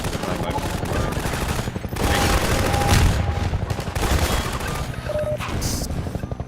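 Rapid gunfire in Half-Life 2: Episode 2 fills the whole stretch, with dense overlapping bursts and sharp cracks, loudest in the middle, over other game noise and some talk.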